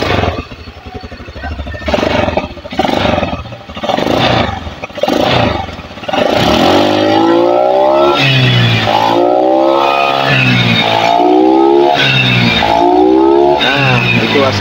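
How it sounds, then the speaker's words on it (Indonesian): A carbureted Honda Beat or Vario scooter with a vacuum carburetor and heavy fuel consumption idles roughly, then revs repeatedly in loud rising and falling surges close by, its engine note swooping up and down in waves. "sekarang coba saya gas Mas"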